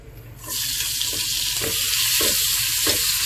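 Onions dropped into hot leftover oil for a fish egg fry burst into a loud, steady sizzle that starts abruptly after a moment of quiet and holds close up, with faint stirring scrapes.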